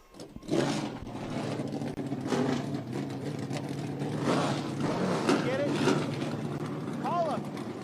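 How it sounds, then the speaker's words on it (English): Several 900-horsepower Trans Am Series race car engines fire up and rumble together at Road America, a rough, steady roar with bursts of revving across the field, under some nearby talk. "Hearing these 900 horsepower Trans Am entries fire up."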